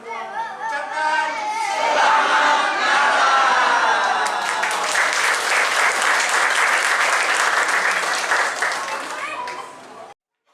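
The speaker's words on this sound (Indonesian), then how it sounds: "Berikan tepuk tangan dulu Bapak Ibu sekalian." A church congregation at a Christmas service claps and cheers, sustained loud applause with whoops swelling then fading at the end, voices mixed in the crowd.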